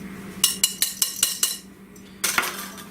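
Fig muffin batter whisked in a bowl, a wire whisk striking the sides in a quick run of about eight sharp clinks, a brief pause, then a few more close, bright taps with no talking.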